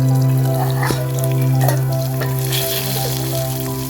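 Potatoes fry in a pan with a loud, continuous sizzle over a steady low hum, with a few light clicks and no voices.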